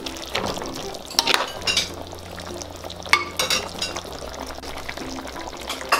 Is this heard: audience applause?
no